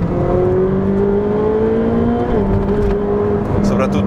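A Ferrari 458 Speciale's naturally aspirated V8 howls steadily toward 9000 rpm, its pitch climbing and dropping as it shifts, loud and close throughout.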